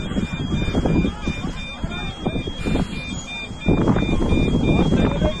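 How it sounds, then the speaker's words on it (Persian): Alarms sound aboard a Caspian Airlines airliner during a crash landing on a road near Isfahan, Iran, steady high electronic tones running throughout beneath loud rumbling cabin noise and frantic passenger voices. "تمام الارمای هواپیما روشن شد"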